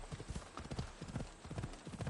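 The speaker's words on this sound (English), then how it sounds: "I'm gonna take a nice long run on the beach with my horse all the way back to town." Horse hooves galloping along a beach in Assassin's Creed Odyssey, a quick rhythmic clip-clop of footfalls repeating steadily at moderate volume with faint game ambience behind.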